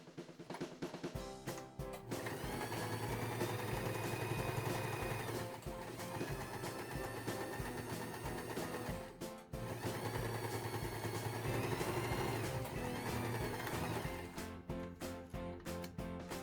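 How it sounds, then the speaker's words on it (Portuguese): A domestic sewing machine with a presser foot topstitching a cloth flap, running in two long steady stitching bursts with a brief pause between, whirring and close up, with short stops and handling at the start and end. "Eu vou fazer um pesponto aqui com o pezinho de máquina também."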